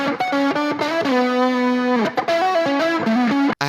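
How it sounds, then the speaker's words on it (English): Distorted electric guitar solo rendered as a single stem, played through an amp with effects: sustained bent notes and quick melodic runs, loud and continuous with a brief dropout near the end. "This is just a guitar solo that I played."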